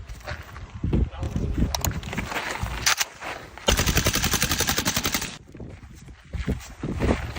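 An AK-200 rifle fires, with a rapid automatic burst of about a second and a half standing out amid scattered shorter shots and clatter, loud and close.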